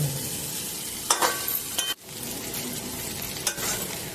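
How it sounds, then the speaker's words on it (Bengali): Vegetables and chicken chow mein noodles stir-fried together in a pan, with a steady sizzle and a few sharp scrapes and clinks of stirring, heard close up and with no talking. "সব সবজিগুলো আমি একটু ভালো করে ভেজে নেবো চাউমিনের সাথে"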